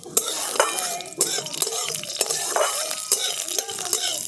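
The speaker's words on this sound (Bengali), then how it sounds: "সেগুলো ফটফট করে ফাটতে শুরু করে দিয়েছে, তার মানে আমাদের ফোড়নটা হয়ে গেছে।" Black mustard seeds crackle in hot oil as a tempering for a sabu tiffin, sharp pops and spatters bursting repeatedly over a steady sizzle, close and fairly loud.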